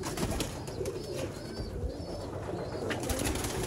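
Neeli pigeons coo softly in short repeated phrases against a constant background hiss, fairly close and alone, with no talking.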